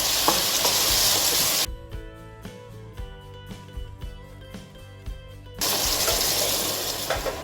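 Eggplant cooking in a half-covered pan, a steady sizzle and frying hiss that drops out partway while lower clatter continues, then returns loud and broadband.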